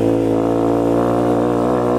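Fratelli Xe 125 motorcycle engine running steadily and loud, a rough, buzzy single-cylinder drone with an enduro-bike character, holding a constant note without speech.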